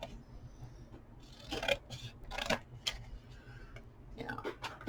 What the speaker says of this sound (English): And then I'm going to cut these flaps off too